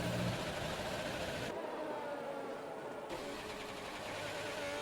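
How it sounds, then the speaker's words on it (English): A Ferrari engine in a racing video game revs and drones steadily, with a whining mid-range tone that dips briefly midway before resuming, heard without talk. "Yeah, revving that car out there. The Ferrari engine."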